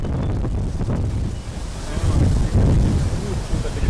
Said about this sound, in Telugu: నిన్న సాయంత్రం నుంచి కూడా బలమైనటువంటి ఈదురు గాలులు వీస్తున్న నేపథ్యంలో